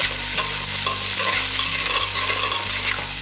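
Around 300 grams of small shallots with curry leaves and mint sizzle in a pan for a country chicken curry, with a continuous frying hiss broken by scraping stirs of a spoon.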